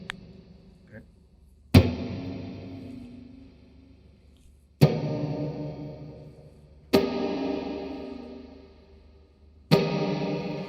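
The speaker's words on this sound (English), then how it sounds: "that whole like springy reverb effect is very digitized, very piercing" Guitar played through a Mojo Hand FX RVT springy digital reverb pedal: four sharp plucked chords, each blooming into a long, bright, metallic reverb tail that slowly decays before the next strike.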